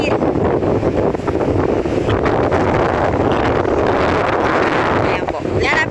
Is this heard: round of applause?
no